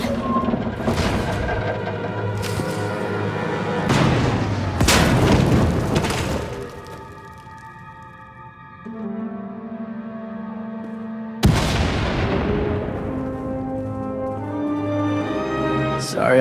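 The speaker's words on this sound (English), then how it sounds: "We heard explosions." Several heavy booming blasts in a video game with crackling debris, separated by quieter stretches of low tonal drones and a final sweeping boom.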